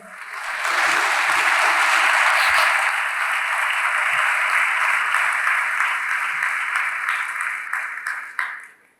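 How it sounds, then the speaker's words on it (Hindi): Loud, sustained applause from a church congregation during a Christmas sermon, a dense wash of clapping that holds steady for several seconds before tapering off. "ऐसे यीशु के लिए जोरदार तालियां।"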